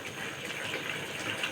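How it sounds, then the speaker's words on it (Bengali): A brinjal and prawn curry simmering in a pot, with a steady, close bubbling and hissing boil and no pauses. "ঝোলটা ফুটছে"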